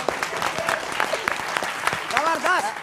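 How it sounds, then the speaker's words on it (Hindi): Applause from a live TV news-debate studio audience, a steady burst of clapping with voices talking loudly over it throughout. "ताली होनी चाहिए इसके लिए।"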